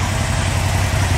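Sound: Aprilia Caponord motorcycle engine idling

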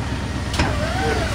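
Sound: 1965 Chevrolet Impala car engine

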